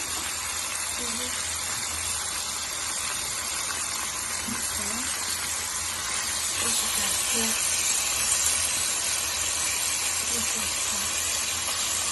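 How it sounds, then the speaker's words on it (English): Steady, loud sizzling hiss of beef for Kenyan nyama choma frying hot in a pot on a stovetop fills the whole stretch without a break, with faint voices underneath. "Look at that. Sizzling. That's what we call sizzling."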